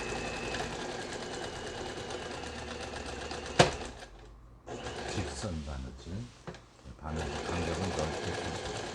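A Lion Pro Indigo home sewing machine stitches after a repair, its fast mechanical whirring running in bursts with brief stops, while someone talks over it.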